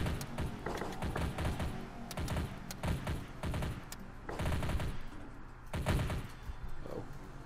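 Sniper rifle gunfire in a video game, several irregular clusters of sharp shots and bursts at moderate distance, fairly quiet, with short gaps between volleys.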